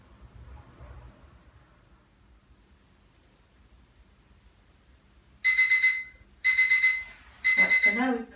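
Three loud electronic timer beeps sound in quick bursts after a long quiet stretch, each lasting under a second with short gaps, going off at the end of a Moxa stick treatment session.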